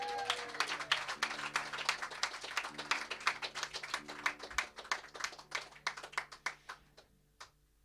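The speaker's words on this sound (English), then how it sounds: "Could we also have a round of applause for Jonathan on sound," A small audience claps at a live music gig, steady applause that thins out into scattered separate claps before fading to quiet.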